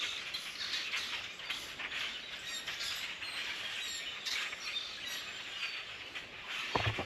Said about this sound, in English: Those birds are still going.